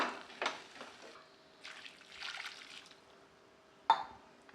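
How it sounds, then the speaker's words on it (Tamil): Quiet kitchen sounds: water pours and splashes softly in short bursts, with faint clatter and one sharper knock near the end. "ஒரு தடவை நல்லா கலந்துட்டு தேவையான அளவுக்கு தண்ணி சேர்த்துக்கலாம்"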